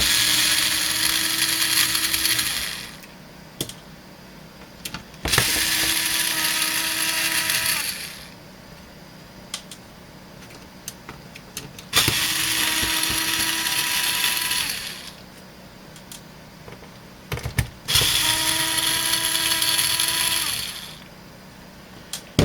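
A power driver whirs in four loud bursts of about three seconds each, with short clicks and pauses between, while unbolting parts from a failed, exploded Bestec ATX-300-12E power supply.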